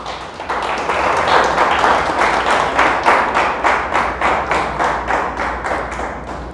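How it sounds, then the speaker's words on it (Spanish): A church congregation claps during a sermon, rhythmic in-time clapping that is loud and steady throughout, with no voices over it. "Le damos un aplauso a Dios"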